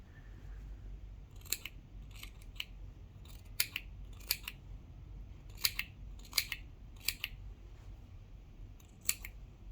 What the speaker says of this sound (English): just snip a bit, making sure you don't clip your threads